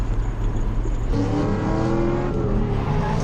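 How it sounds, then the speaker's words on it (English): A drift car engine roars steadily at high revs, pitch climbing as it accelerates, with a constant loud mechanical drone and no talking. "This car is fast."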